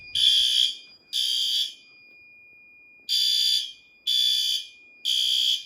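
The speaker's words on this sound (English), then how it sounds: "Our main horn strobe" A fire alarm horn strobe sounds during a routine system test, giving four loud, steady electronic horn blasts, each about half a second to a second long, separated by short gaps and one longer pause.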